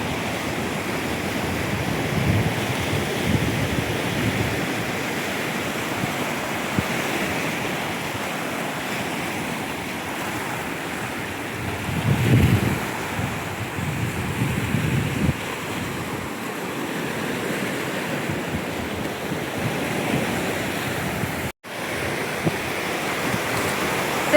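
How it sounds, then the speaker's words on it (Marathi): A cool wind blows steadily by the sea near a hilltop temple at Dapoli, a continuous roar of gusts and surf with rumbling buffeting against the microphone throughout. "आता गार वारा सुटला ना"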